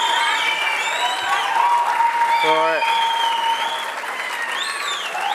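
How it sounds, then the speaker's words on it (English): Spectators applaud at the men's 10m air rifle final of the ISSF Shooting World Cup in Bhopal, India. A steady wash of clapping runs throughout beneath an announcer's voice, with a brief tonal chirp partway through. "A very, very big applause"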